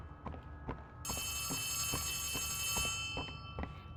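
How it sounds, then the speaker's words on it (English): A telephone rings in the video game Poppy Playtime 3, a steady, bright electronic bell that starts a second in and holds for about two seconds before fading, with slow, regular footsteps thudding underneath. "They suddenly hear a phone ringing"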